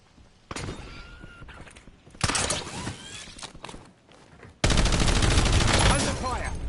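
Bursts of video game gunfire crackle in dense, rapid volleys. Several separate automatic bursts come close and loud, the last one long and sustained.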